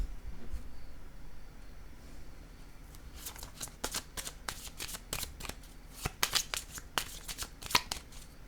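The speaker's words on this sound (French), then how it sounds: "je vais piger une autre carte" Oracle cards are handled and drawn from a deck, with a quiet stretch followed by a run of sharp, close riffling flicks and snaps of card stock.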